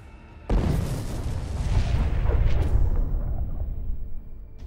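A tank blows up after a kamikaze FPV drone strike in the war in Ukraine: a sudden loud boom swells into a long, roaring rumble of burning and debris that slowly tapers off.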